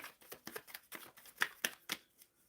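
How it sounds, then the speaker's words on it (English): A deck of tarot cards is shuffled by hand in a quick series of crisp riffles and flicks, close and fairly quiet, with no talking. "Shuffling for Catwoman."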